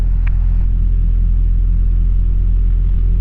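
A small airplane's piston engine running as the mixture is leaned, a steady loud droning rumble with a constant low hum throughout.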